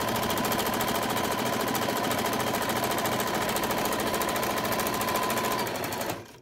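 A sewing machine runs fast and continuously, backstitching a seam while attaching a collar to pyjamas, its rapid needle chatter loud and close for six seconds before winding down and stopping.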